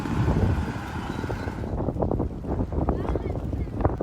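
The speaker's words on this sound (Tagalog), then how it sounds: "Malakas na rin ang alon at hangin" Strong storm wind roars across the microphone over rough sea in Tagbilaran, Bohol, with a broad steady rush and some choppy splashing, no clear talk.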